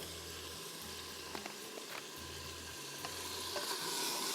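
Cumin, garlic, mustard seeds, whole red chillies and curry leaves crackle in hot oil as a tempering for a fried fish dish, a faint, continuous sizzle with a few small pops over a low electrical hum.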